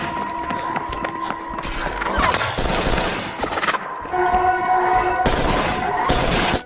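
Gunfire in a War of the Worlds film scene, with bursts of shots and impacts layered over dense action music and effects, loud and continuous throughout.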